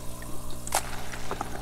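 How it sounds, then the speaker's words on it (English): Air stones bubbling inside a 17-gallon plastic tote set up as a deep water culture hydroponic bin, a soft continuous trickle and burble of water with faint small pops over a low steady hum. "Inside here, we got a couple air stones bubbling away in there,"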